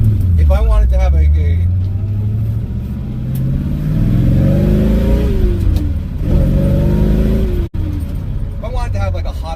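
A car exhaust fitted with Magnaflow mufflers revs up and settles, giving a loud, deep, bassy roar with climbing and falling pitch that comes close, while someone talks at times.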